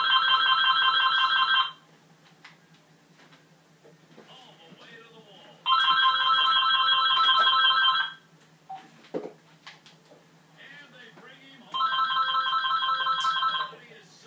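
A telephone rings in three long bursts of electronic trilling, each about two seconds, separated by pauses with faint background sounds and brief murmurs of talk.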